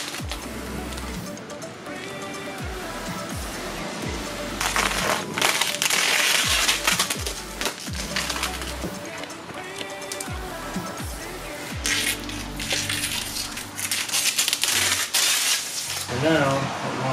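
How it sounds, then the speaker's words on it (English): A sharp blade slices through vinyl wrap along a line of tape on the roof of a 2021 Toyota Supra. It makes soft crunchy scraping strokes in a steady series, with someone talking over them. "I'll just cut along the tape"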